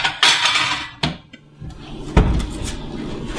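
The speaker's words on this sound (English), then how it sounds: "I'll get a plate," A flat plate handled in a home kitchen, with several sharp clinks and clatters of crockery against a surface and cupboard, close and fairly loud, with short quiet gaps between knocks.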